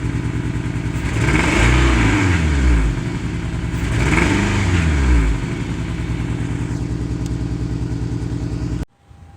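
Car engine running rough with poor compression, a steady loud idle with uneven, lumpy pulsing and two swells in revs, cutting off abruptly near the end.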